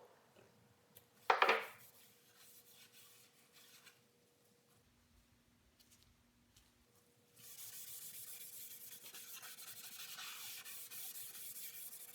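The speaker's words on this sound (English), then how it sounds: "used some steel wool to work it into the wood after each coat" Steel wool rubbed over wood while working tung oil into a custom dog bed, a faint dry scrubbing with one louder brief scrape early on, then a steady soft hiss of rubbing later.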